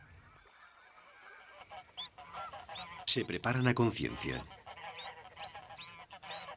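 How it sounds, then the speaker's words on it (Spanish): Canada geese honk repeatedly outdoors in summer, a loud cluster of calls in the middle with scattered honks around it, under a narrator's voice. "Los animales más jóvenes, como estos gansos de Canadá, deben hacerse fuertes durante el verano para migrar con los adultos."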